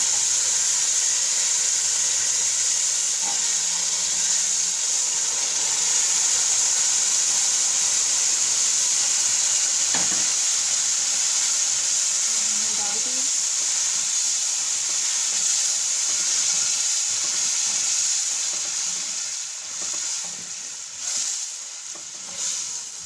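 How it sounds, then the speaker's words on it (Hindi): Sugar syrup being added to hot semolina halwa in a pan, giving a loud, steady, hissing sizzle that lasts throughout with a few faint clinks of stirring, then eases slightly toward the end. "अब इसमें चाशनी डाल देंगे"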